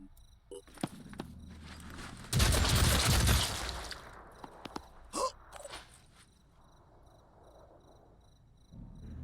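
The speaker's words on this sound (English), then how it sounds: "open fire on that wounded sniper" Gunfire in a turn-based tactics video game, a loud dense burst of shots lasting about two seconds, followed by a few fainter sharp reports and quiet ambience.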